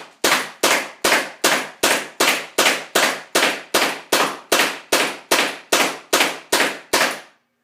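An M17 paintball marker fires hard-shelled woodsball paintballs in a steady string of about eighteen sharp, loud shots, evenly spaced, each a crisp pop with a short decay, close by with no talk.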